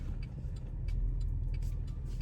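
Low rumble of cars driving past on a road, close and steady with a faint hiss of tires; no one talks.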